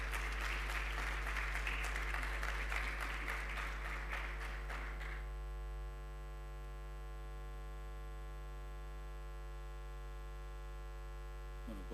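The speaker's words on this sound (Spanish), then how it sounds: "un fuerte aplauso para recibirlo en este escenario" An audience at an international conference talk on energy storage technology applauds a speaker taking the stage, with dense clapping that stops after about five seconds. A steady mains hum carries on underneath.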